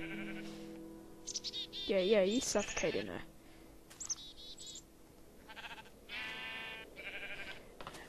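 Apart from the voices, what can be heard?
sheep bleating in the video game Minecraft (Tekkit)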